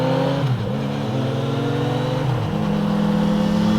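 A motorcycle, a Kawasaki Z900RS or Yamaha XSR900, pulls hard up to third gear, its engine note rising steadily with short dips at each shift, loud and close with wind rush.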